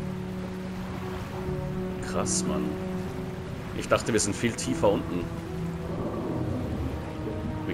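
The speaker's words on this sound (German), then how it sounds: "Und der Sturm tobt immer noch." A storm in the underwater game Under the Waves: steady rain hiss with low rumbling thunder surges, while someone speaks over it in German.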